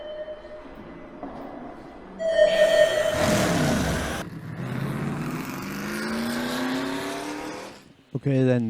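Radio-controlled model cars race on a club track at a Saturday afternoon finals meeting in Dorset, their motors whining and surging loudly as they pass, with tyre squeal and a voice speaking over the race.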